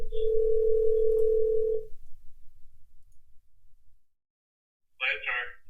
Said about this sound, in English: So let me call and see what they have going on here.